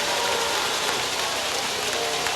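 Steady roar of a large football crowd filling the stands at a 1994 Thomas County Central state championship game, a dense continuous wash of cheering noise with no single voice standing out.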